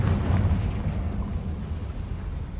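A Bombarda or Confringo spell explosion in Hogwarts Legacy gives a deep, rumbling boom that swells at once and then rolls on as a low, dense roar with no voices over it.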